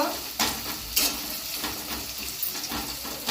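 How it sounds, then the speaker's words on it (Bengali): Onions sizzle and crackle in hot oil in a pan, a steady close frying hiss with a few louder stirring bursts, and no talking over it. "পেঁয়াজটা লাল করে ভেজে নেব"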